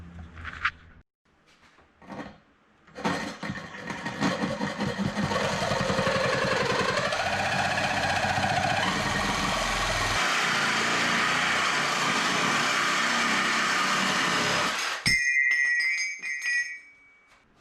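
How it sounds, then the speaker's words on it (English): Aluminum intake manifold being cut apart in a shop, a loud continuous grinding-saw whine that runs for about twelve seconds after a few short starts, then stops abruptly and leaves a brief high ringing tone. "we got the intake manifold cut up"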